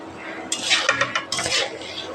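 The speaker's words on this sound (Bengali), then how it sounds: "ডালটা ভালো করে আবার ভালো করে কষাইতেছি মশলার সাথে" Mung dal being sautéed with spices in a pan for a fish-head muri ghonto, heard as close metallic scraping and clinking of a spoon against the pan in a few quick bursts, with no voices.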